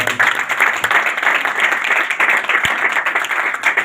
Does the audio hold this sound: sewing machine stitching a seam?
no